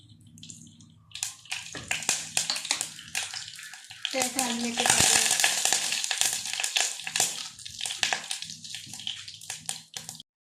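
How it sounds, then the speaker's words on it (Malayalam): Coconut oil crackles and sizzles in a hot pan, a sharp hiss swelling in the middle, with clinks of a utensil and a voice talking over it. "ഒരു പാൻ അടുപ്പിൽ വെച്ച് അത് ചൂടാകുമ്പോഴത്തേക്ക് വെളിച്ചെണ്ണ ഒഴിച്ച്"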